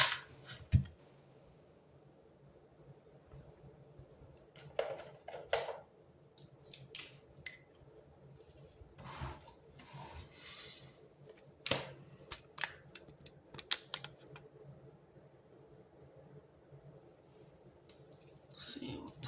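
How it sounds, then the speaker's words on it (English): Oracle cards being shuffled by hand, scattered soft papery flicks and riffling snaps in short bursts over a quiet room background, close and faint, with no talk. "I'm gonna go ahead and shuffle some of the cards I'm gonna use for the main energy"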